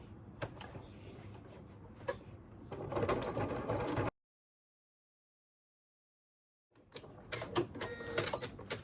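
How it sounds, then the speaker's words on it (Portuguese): A domestic sewing machine stitches in rapid mechanical bursts, running for about four seconds, stopping in silence, then starting again near the end, close and fairly quiet. "deixa a agulha baixa, levanta o calcador e costura"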